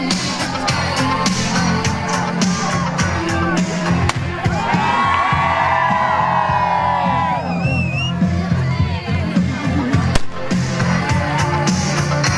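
Crowd cheering and whooping at a Romanian eighth-grade graduation ceremony at a school in Lugoj, a steady dense roar of shouts and whistles with clapping mixed in, loud and continuous throughout.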